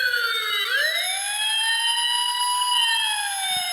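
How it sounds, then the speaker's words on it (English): An E-Blox Circuit Builder electronic toy produces a loud fire engine siren, a piercing synthetic tone that sweeps up and down and wails continuously close to the microphone, with no other sound. "Now the fire engine siren sounds."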